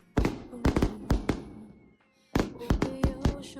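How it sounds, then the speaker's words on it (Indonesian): Several sharp firework bangs in quick clusters with a brief pause between, crackling and echoing nearby; faint music underneath. "Kembang api yang indah sekali."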